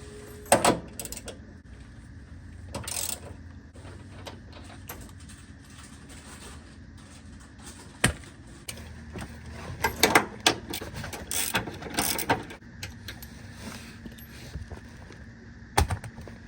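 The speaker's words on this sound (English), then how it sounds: "you're just gonna have to take off the 17mm bolts that is holding up the engine mounts" Wrench work on 17mm engine mount bolts of a Lexus LS430 during engine removal: scattered metallic clicks and ratcheting bursts with clanks, moderately close, no talking.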